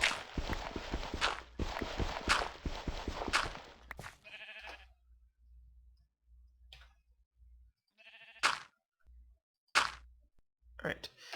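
Sheep bleats in Minecraft, several short separate calls after a stretch of busy game footsteps, with the speaker talking over parts of it.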